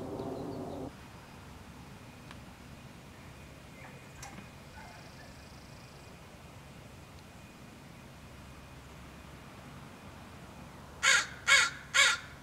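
A crow caws three times in quick succession near the end, loud and close, after a long stretch of quiet outdoor ambience near the Puget Sound.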